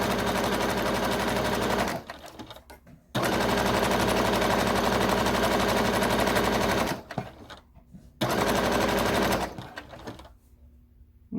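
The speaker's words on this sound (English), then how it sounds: "What's so easy about this is that it's just sewing straight lines" Sewing machine stitching straight seams through terry cloth, running in long steady bursts of rapid needle chatter separated by short pauses, close and loud.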